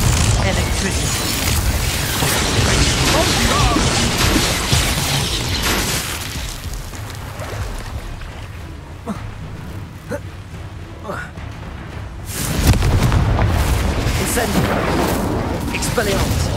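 Fire spell cast in the fantasy action game Hogwarts Legacy, a loud whooshing burst with booming impacts amid dense, continuous battle noise that eases midway and then surges back strongly near the end.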